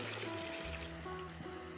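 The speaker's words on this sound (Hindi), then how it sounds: "अब मैं इसमें ये 1 लीटर पानी डाल के," Water trickles faintly into a pot of trotters cooking with onions, black cardamom and cinnamon, a short, quiet, steady pour with no talking.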